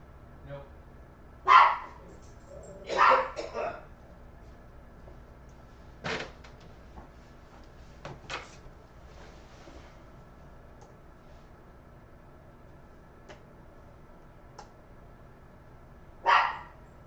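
A dog indoors at home barks in a few loud bursts, a double bark early on, then sparser yips and a final sharp bark after a long pause, over a low steady hum.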